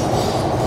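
Train running on rails in a modern European train, a short, loud, continuous rumble heard from inside the carriage.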